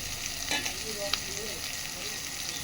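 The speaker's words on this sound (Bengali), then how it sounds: "মাছের সাথে এগুলো এবার ভালো করে ভেজে নেব" Vegetables and chopped shrimp fry in a pan with a soft, steady sizzle and a couple of brief scrapes or clicks, fairly quiet and close, with no talk over it.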